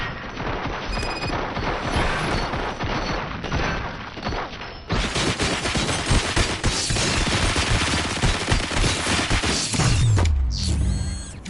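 Gunfire in RoboCop: Rogue City comes as a dense, continuous burst of automatic shots mixed with clanking mechanical rattles. It grows louder partway through and ends with a heavy low rumble.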